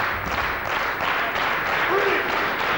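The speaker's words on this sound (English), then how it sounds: "Crowd encouraging both men to get back up to a standing position" Wrestling crowd at a 2003 tournament quarter-final cheering the wrestlers on, a dense continuous roar of voices and scattered clapping filling the arena without a break.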